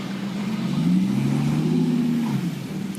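Diesel V10 engine of a pre-facelift VW Touareg V10 TDI SUV, a steady, moderately loud low rumble that swells slightly as it revs through the middle and then eases off.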